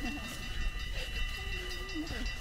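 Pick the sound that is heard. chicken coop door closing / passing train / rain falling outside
passing train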